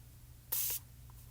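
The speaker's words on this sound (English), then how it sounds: "so if I spray this" A single short hiss of water mist sprayed from a bottle onto inked thick paper, close and brief, in an otherwise quiet room.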